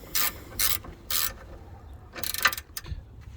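On a BMW Z4, a ratchet driving an Allen key socket tightens a track rod end ball joint, giving three short clicking bursts and then a busier rattling run, close and quiet.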